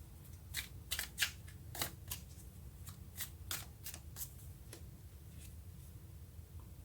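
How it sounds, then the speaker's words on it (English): A deck of tarot cards is shuffled close up in a quiet room, a series of crisp riffling snaps and slaps in an uneven rhythm over a faint low hum. "let's get one more card."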